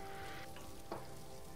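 A campfire in the survival game Stranded Deep is doused, a short, steady hiss and sizzle with a brief burst near the end.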